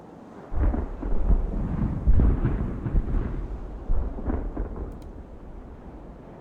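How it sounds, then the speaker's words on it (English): Distant cannon fire in the video game Ultimate Admiral: Age of Sail: deep, rumbling booms roll in one after another, muffled and distant like thunder, forming a continuous low growl. "when you're at a distance, you hear the cannon fire, but it sounds like thunder"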